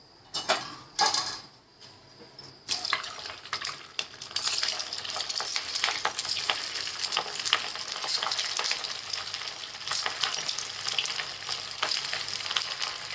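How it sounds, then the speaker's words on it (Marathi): Fasting bhaji fritters fry in hot oil with a dense, steady sizzle and crackle, joined by a few metallic clinks of a utensil at the start before the bubbling settles into a continuous close hiss. "अशा प्रकारे सर्व भजी तळून घेते"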